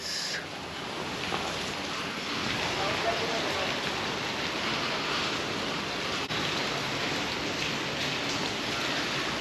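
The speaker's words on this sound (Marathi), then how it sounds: "आणि जोरदार चालू झालाय पाऊस आज" Heavy rain pours down steadily, a dense, continuous hiss of drops on surfaces that stays even throughout.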